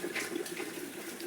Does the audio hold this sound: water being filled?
yes